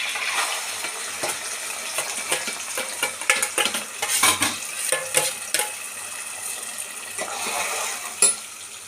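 Green chillies and curry leaves frying in a pan for an Andhra masala prawn curry, with soft sizzling under repeated stirring and scraping of a metal spoon against the pan, scattered clinks throughout.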